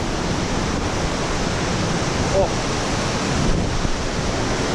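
Steady broadband roar of Europe's tallest waterfall rushing on nearby, constant and dense throughout, with a brief voice exclamation partway.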